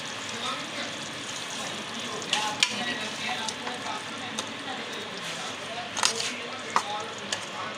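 Chicken karahi fries on medium heat with onions, a continuous close sizzle with clinks and scrapes of stirring, and a voice talks over the cooking.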